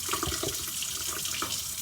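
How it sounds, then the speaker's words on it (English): Hot water runs steadily from a kitchen tap, a continuous close splashing rush into a sink with slight fluctuations. "I'm going to turn my water on hot"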